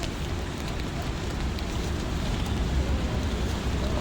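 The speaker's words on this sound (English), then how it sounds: "the rain is making it hard to do anything." Steady rain falling outdoors, a dense even hiss of drops that holds at a constant level throughout, with no voices heard.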